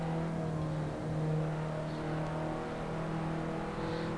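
A Ford Sierra RS500 in Assetto Corsa holds a steady, droning engine note at sustained revs, with a constant hum and no voices.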